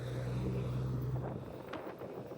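Wind buffeting a microphone outdoors on a very windy day in Cancun, a steady low rumble that is loud at first and eases slightly toward the end, with no talk over it.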